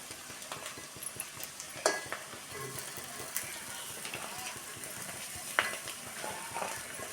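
Broad beans and tomatoes fry over onions in a pan, giving a steady close sizzle broken by scattered utensil clicks and stirring scrapes, with no talking.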